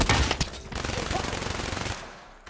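Rapid gunfire in the video game TTT during a game of Russian roulette: a quick burst of loud shots followed by a steady rattling run of fire that fades out, with faint talk underneath.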